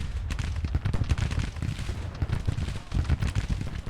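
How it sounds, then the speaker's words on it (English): Massed artillery and rifle fire from a Civil War battle in the strategy game Grand Tactician: The Civil War, a dense, continuous rumble of booms and crackling volleys with no clear gaps. "Artillery's coming in."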